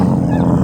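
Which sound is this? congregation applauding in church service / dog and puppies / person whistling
dog and puppies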